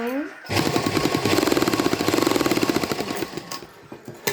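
A sewing machine stitches a shirt pocket, starting abruptly and running a fast, steady mechanical rattle of stitches for about three seconds before slowing and stopping. It is loud and close, with no voices.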